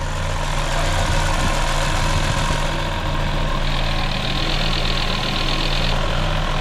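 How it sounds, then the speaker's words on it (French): A Citroën BX 1.9i engine idles smoothly and evenly, a close, steady rumble with a faint higher whine over it and no talking. "il tourne super rond ton moteur"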